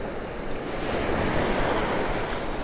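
Sea waves break steadily on Cromer Beach as a continuous, loud roar of surf, with wind buffeting the microphone throughout and no voices.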